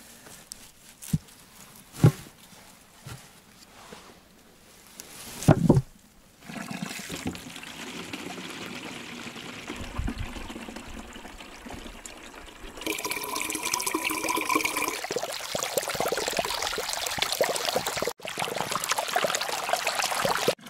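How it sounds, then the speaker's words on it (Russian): Water from a holy spring in the taiga flows steadily, starting as a faint trickle with a few knocks and then rising to a louder, continuous rushing stream. "Но все равно вода постоянно бежит."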